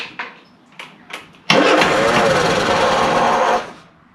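A classic Mini van, off the road for 25 years, cranks with a few stuttering turns. Its engine then catches and runs loudly for about two seconds before cutting out abruptly.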